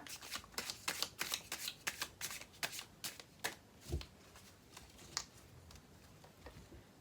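Tarot cards are shuffled by hand at close range in a run of crisp, quick riffling bursts and soft slaps. Pauses break up the bursts, and no voice is heard over them.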